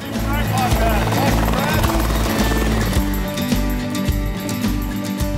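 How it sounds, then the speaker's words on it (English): Loud, steady helicopter rotor thumping close by as it lands on snow, a rhythmic low chop that continues throughout with a voice speaking over it. "It's landing a helicopter on the snow, kicks up all this white snow"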